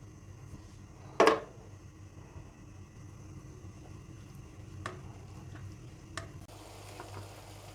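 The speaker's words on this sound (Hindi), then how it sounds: "ये हमने हाफ़ कप लिया है कुकिंग ऑयल, इसमें ये प्याज शामिल करेंगे चॉप किए हुए।" Chopped onions hit half a cup of hot cooking oil for a samosa filling, giving a soft, steady sizzle with a sharp burst near the start and a few light stirring clicks.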